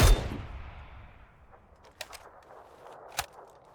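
In PUBG, a loud, close gunshot booms and then decays into a long echoing tail, followed by two sharper, quieter shots a little further apart.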